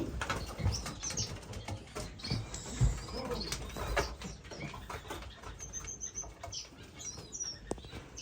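Pigeons shuffle and flutter in a bird room also housing finches, with soft coos, pattering feet and brief wing flaps mixed with high chirps, steady and close throughout.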